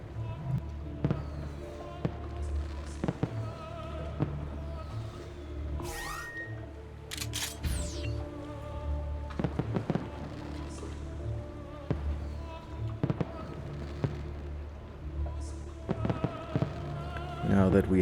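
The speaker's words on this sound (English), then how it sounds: "Luckily there's fireworks all over the place, so this shouldn't draw too much attention." Fireworks burst repeatedly around a practice yard in Assassin's Creed II, sharp cracks and pops scattered over a steady bed of game ambience and music, with no talking.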